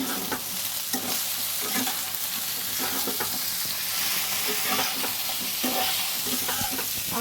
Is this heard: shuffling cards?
no